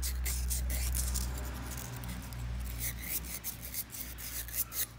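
A wooden pen's brass tube is scratched and roughened before gluing, giving a close, steady rasping rub that fades into lighter, intermittent scraping strokes.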